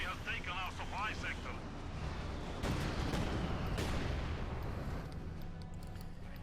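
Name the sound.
mortar fire exchanged in video game Company of Heroes 2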